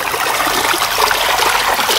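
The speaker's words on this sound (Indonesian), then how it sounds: "Arusnya itu teman-teman ya sangat deras ya teman-teman ya." A small, short river runs fast, giving a constant rushing, gurgling flow of water close by, loud and unbroken with no talk over it.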